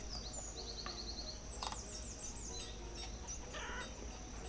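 Chickens clucking in a pen within the video game Banished, with faint, scattered chirpy calls over a steady low ambient bed of game background sound.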